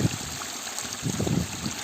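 Steady rushing of water tumbling over a small fall, a continuous broadband wash with no voices, fairly close and even throughout.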